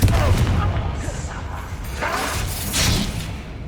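Spell blasts and booming impacts from a Confringo fire spell in the Hogwarts Legacy game, loud and continuous over about four seconds with a denser burst near the end, layered over game combat noise.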